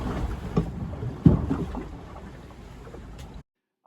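Dull rushing and creaking below deck inside a sailing boat heeled over beating upwind at night in rough water, with a thud of a wave hit against the hull, steady noise throughout.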